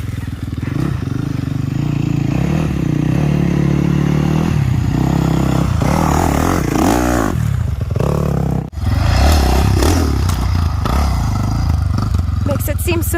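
A dirt bike engine revs loud and close as the rider wheelies over a log, with clattering and scraping as the frame rocks across it, and people talk throughout.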